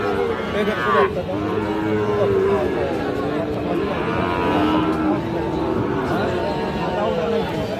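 Sahiwal cattle at a busy livestock market give repeated loud, drawn-out moos close by, with people talking and haggling throughout the whole stretch.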